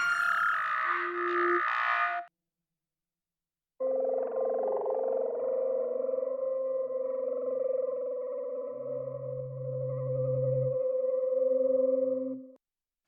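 Pulsing phaser pad notes from a Kontakt sound library ring out as long sustained synth tones, one brighter note breaking off before a longer warbling, swirling chord that sweeps and shifts in tone, playing alone at a moderate level.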